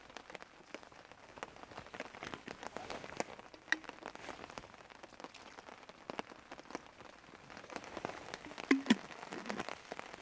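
Rain patters steadily on a tent at a campsite during a storm, soft and close, with scattered heavier drips and a few faint bumps.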